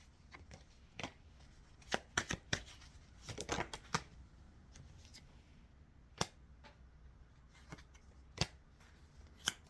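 Oracle cards shuffled by hand, a string of crisp riffling flicks and sharp snaps scattered irregularly over a quiet room, fairly close and alone without talk.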